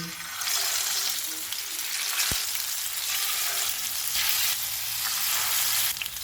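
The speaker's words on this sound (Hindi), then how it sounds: "ऑयल गर्म हो गया, इसमें फ़िश के पीसेस रखेंगे। चूल्हे को लो टू मीडियम रखेंगे। इनको गोल्डन ब्राउन होने तक फ्राई करेंगे।" Fish pieces fry in hot oil in a frying pan over low to medium heat, giving a loud, continuous close sizzle with a single sharp tap partway through and no voices.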